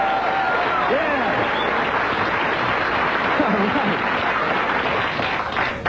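A comedy club audience at The Improv claps and cheers in a dense, steady burst of applause, close and lively throughout, with a few whoops and a voice faintly underneath.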